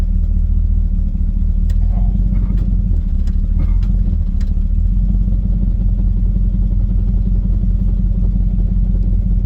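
A failing car transmission clatters and knocks over a loud, steady low engine rumble, with irregular sharp rattles early on and no talking.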